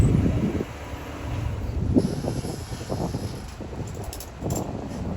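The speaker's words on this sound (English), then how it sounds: "I hope you guys are not getting too much of the wind noise" Gusty wind buffets the microphone outdoors, a low rumbling roar that swells and eases throughout, with faint rustling and no voices.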